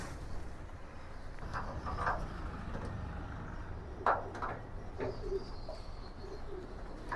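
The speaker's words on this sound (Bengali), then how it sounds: "অলরেডি দেখেন যে কবুতর শেডের উপর এসে বসে আছে" Racing pigeons coo softly near their shed, with a few low murmuring calls scattered over a faint, steady background noise.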